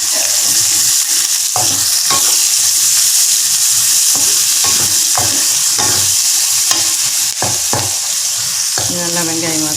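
Ginger, garlic and onions fry in a pan, sizzling loudly and continuously while a utensil stirs and scrapes at an irregular rhythm.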